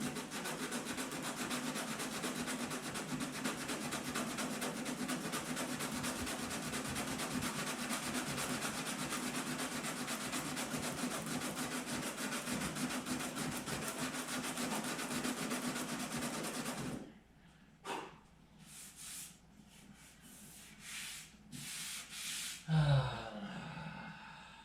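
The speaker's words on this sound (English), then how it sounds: "now I got to spend an hour trying to get it sanded out" Body filler on a 1959 Thunderbird fender is sanded by hand in a continuous, gritty, rasping stroke for about seventeen seconds, close up, then stops, followed by scattered quieter knocks and handling noises.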